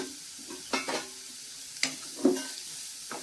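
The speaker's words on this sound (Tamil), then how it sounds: "எல்லாம் நல்லா வதங்கினோம்னா கொஞ்ச நேரம் வதங்கட்டும்." Chopped green chili sautéing in a pan for instant noodles: a soft, low sizzle under several distinct spatula scrapes and clinks spread over a few seconds.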